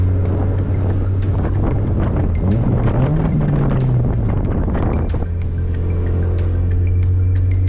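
Honda CRX with an aftermarket exhaust pulling in second gear, windows down, a low engine drone rising briefly then easing back, heavy wind noise over it, fairly close with no talking.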